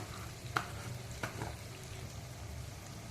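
Curry leaves and dried red and green chillies frying in hot oil for sambar, a soft steady sizzle with a couple of faint clinks from stirring.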